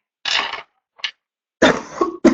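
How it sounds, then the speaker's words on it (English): A few harsh coughs come in short bursts, close and fairly loud, with brief silences between them. "I'm really sorry for my cough."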